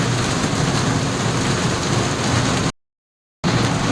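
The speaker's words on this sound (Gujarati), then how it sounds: "ફરી આ બાજુ જો વરસાદની ધમાકેદાર એન્ટ્રી થઈ ગઈ છે. કાલથી પણ વધારે જોરમાં વરસે છે આજે." Heavy rain roaring steadily, loud and dense, cut by a brief total silence before the downpour resumes.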